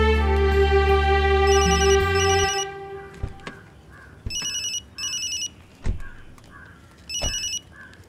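A telephone rings in repeated electronic bursts in an indoor domestic scene, starting after a stretch of loud background music and recurring several times with short gaps.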